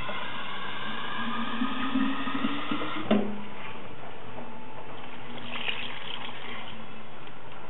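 Water poured from a carafe into a pot of nettle soup with potatoes, a steady gushing pour that starts abruptly and runs on as a continuous liquid rush, close and moderately loud, with no talk.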